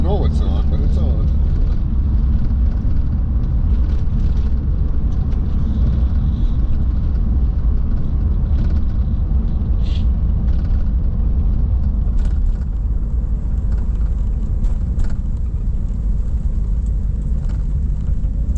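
1994 Corvette C4 on the road at dusk: a steady engine drone and tire rumble fill the cabin without a break, loud and constant, with a few faint knocks and clicks along the way.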